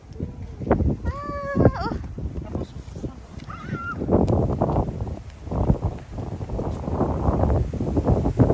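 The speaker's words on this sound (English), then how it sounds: "So windy" Gusty spring wind on a mountain buffets the microphone in a steady low roar, with children's voices and high squeaky calls early on.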